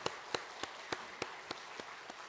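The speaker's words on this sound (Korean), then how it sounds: "우리 한번 박수로 격려 부탁합니다" A church congregation at a Sunday worship service claps for masked singers: about eight sparse, evenly spaced claps, quiet and steady, with no talking.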